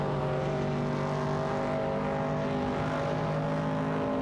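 Race cars in an AI racing video game, including a 1970 Chevrolet Camaro and a Shelby Cobra, drone with a steady sustained engine tone, loud and continuous without a break.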